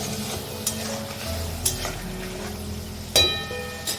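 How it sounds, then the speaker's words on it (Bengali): Shrimp sizzle and fry in a pan for malai curry, a continuous close hiss with a few sharp clinks of a utensil stirring against the pan. "এখানে এই যে মালাইকারি করার জন্য চিংড়িটা একটু ফ্রাই করে নেব।"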